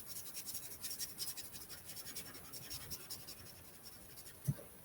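Coloring on paper makes faint, soft scratchy strokes in a steady back-and-forth rhythm, close and quiet, with a single small tap near the end.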